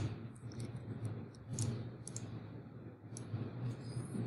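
Quick mouse clicks tick sharply and irregularly while drawing with the pen tool, some spaced apart and some in short bursts, close and crisp over a faint room hum, with no talking.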